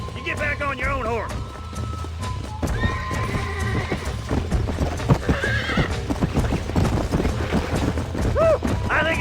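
In the Red Dead Redemption video game, a horse's hooves clip-clop at a gallop while it neighs and whinnies several times. Game characters' voices and ambient sound continue throughout.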